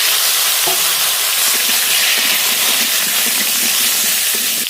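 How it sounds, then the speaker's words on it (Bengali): Potatoes fry in hot oil for a fish curry, a loud, steady sizzle and hiss that fills the whole stretch, with faint stirring clinks underneath. "আলু এবার খুব ভালো করে ভেজে নেব"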